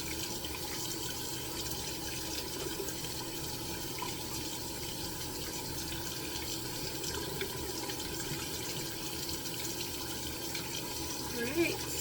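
Water runs steadily from a tap into a sink while a white towel is rinsed during a face-care routine, a constant close splashing wash with no pauses and a slight bump near the end.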